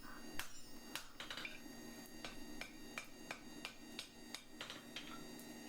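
Quiet, regular hammer blows ring on the edge of an anvil while shaping 3/8-inch flat stock tongs, a dozen or so evenly spaced metallic strikes with no talk.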